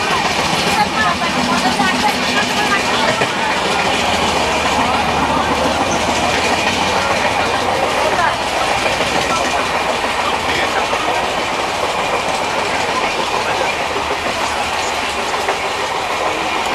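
The 12303 Poorva Express passenger train, running Howrah to Jasidih, rolls along the rails with a loud, continuous rumble and a rhythmic clickety-clack, while a person talks over it.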